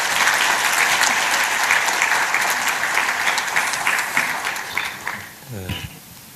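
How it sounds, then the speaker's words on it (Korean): Church congregation gives a big round of applause to welcome a university president, loud dense clapping that gradually thins and fades, then a voice begins speaking near the end. "큰 박수로 총장님 맞이하겠습니다"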